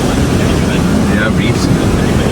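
Ocean surf off Maui during a tropical storm, loud continuous wash of waves mixed with heavy wind buffeting, with faint voices in the background.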